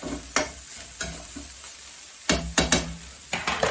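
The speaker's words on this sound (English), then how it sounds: "I'm just going to fry that up." Minced meat with dried sage frying in a pan gives a low, soft sizzle broken by several sharp stirring scrapes and clacks, clustered in bursts toward the end.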